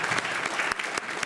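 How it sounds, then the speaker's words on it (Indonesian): Audience applause at a library inauguration, a dense, steady burst of clapping from a crowd indoors, brief and continuous with no talk over it. "Tepuk tangan yang ikhlas semuanya."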